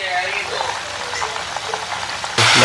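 Flour-coated chicken frying in hot oil, a dense, close crackling sizzle like steady rain, growing suddenly louder and fuller near the end.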